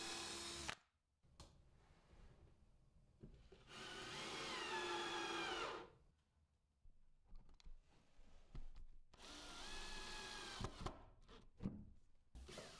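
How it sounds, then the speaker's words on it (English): A self-centering bit drills holes in oak in two sustained whirring bursts with a pause between, followed by light tool clicks in a quiet workshop. "I use a self-centering drill bit just to get the holes drilled out"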